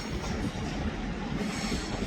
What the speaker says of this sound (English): Well, what is leaving now is the TP Express.